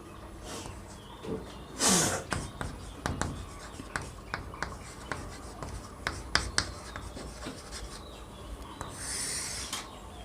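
A tense being written out on a classroom board, heard as faint scratching and tapping strokes at an irregular pace against a quiet room background.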